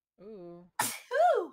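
A single sharp human sneeze bursts out close and loud, framed by short voiced exclamations just before and after it.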